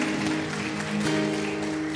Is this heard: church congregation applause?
yes